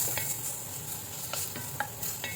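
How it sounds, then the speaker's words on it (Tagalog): Two kinds of preserved vegetables and chopped ginger are dry-fried in a pan without oil. A steady, close hiss runs throughout, broken by a few sharp scrapes and taps from stirring. No one speaks. "dalawang klaseng preserved vegetable po ang ating i-fry sa no oil"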